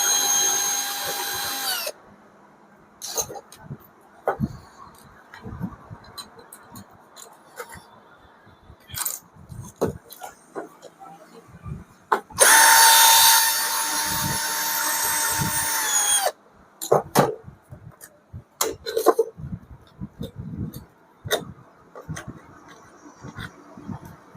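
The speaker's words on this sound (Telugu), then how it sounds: "దాన్ని మనము రిమూవ్ చేసుకోవాలి first of all screw driver తీసుకొని తీసేసుకుంటే అయిపోతుంది" Screws being removed from an Intex home theater subwoofer with a screwdriver, giving close, irregular scraping, clicking and handling noises, with two longer bursts of loud whining tool noise.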